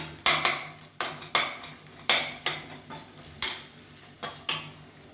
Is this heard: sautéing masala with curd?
yes